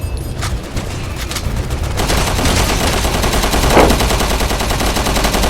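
Gunfire in Resident Evil 6 rattles in rapid, sustained bursts, a dense continuous fusillade that grows louder and thicker partway through, close and loud over a constant roar of combat.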